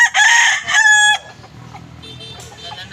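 A loud, close backyard rooster in Bagong Silang, Caloocan, Philippines crows once in a long harmonic call, and the note trails off into quieter background clucking and farmyard noise.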